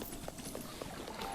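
Rhythmic clip-clop of a horse's hooves in a video game, a faint, evenly spaced trot of about five soft hoof falls.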